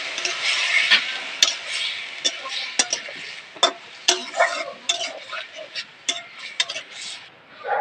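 Marinated tiger prawns fry in a pan while being stirred, giving a bright, close sizzle broken by frequent scraping and clicking strokes of the utensil in an irregular rhythm.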